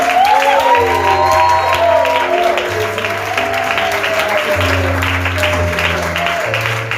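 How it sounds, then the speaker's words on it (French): Church congregation keeps up loud, steady applause and acclamation, with a crowd voice calling out and sustained tones running beneath the clapping. "Les acclamations continuent."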